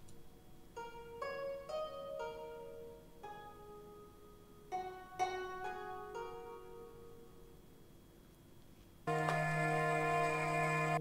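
A gusheng plays a short fragment of a motif: bright plucked notes ring out in small clusters, fairly soft, with decaying tails. Near the end a loud, sustained tone enters and holds steady. No one speaks.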